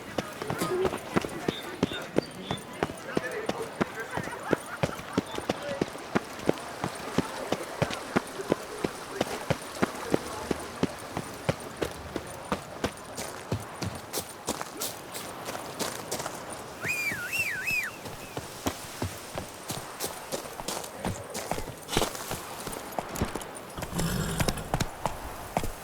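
Geralt's horse Roach gallops in The Witcher 3: Blood and Wine, a steady rapid clip-clop of hooves running throughout under music and game ambience, with a brief whistle-like tone partway through.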